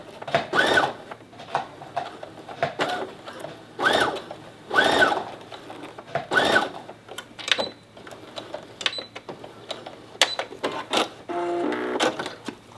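A sewing machine stitching closed the opening of a shirred top, running in several short bursts of rapid mechanical whirring separated by brief pauses, close up with no voices.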